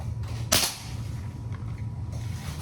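An MSG Tactical PCP air rifle fires a single sharp, close shot that cracks loudly over a quiet outdoor background hum.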